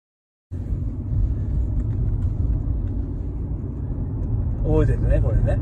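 Steady low road rumble from a car as it slows, with a constant engine and tyre drone throughout and people talking over it toward the end.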